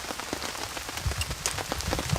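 Rain patters steadily on a camping tarp over a bushcraft campsite in wet weather, a close, dense crackle of drops with a few louder taps, no voices.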